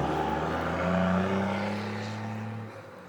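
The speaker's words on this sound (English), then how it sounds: "a loud truck driving by." A heavy truck rumbles past nearby, a loud low engine drone that swells and then fades away as it passes.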